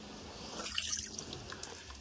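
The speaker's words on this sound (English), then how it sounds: "I got some water, let's dip it in." A leaking air cushion with a puncture is dipped into water, giving soft, close trickling and dripping splashes with small intermittent drops and no talking.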